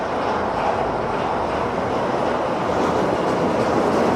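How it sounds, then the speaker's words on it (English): A Shonan hanging monorail passing close by: a steady, loud rushing rumble of the train lasting throughout, with no talk. "The Shonan Monorail comes once every 7 to 8 minutes"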